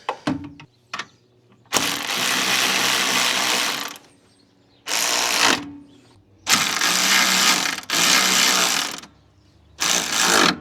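A ratchet tightens bolts on a car radiator in a wrecked Honda Civic, giving loud, close bursts of rapid clicking that stop and start several times, with short quiet pauses and a few light metallic taps.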